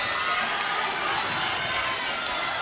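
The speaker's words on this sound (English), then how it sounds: "Bowling Springs fans letting Larry Steele hear about it" Wrestling fans at a high school match between Boiling Springs and Big Springs jeer a stalling wrestler, a steady broad crowd roar with scattered shouts filling the gym throughout.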